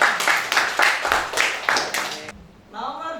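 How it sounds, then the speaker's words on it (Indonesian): An audience in a classroom teaching assessment claps in a brief burst of rhythmic applause that stops abruptly, followed by a moment of quiet and then voices. "Tepuk tangan untuk"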